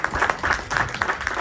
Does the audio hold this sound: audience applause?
yes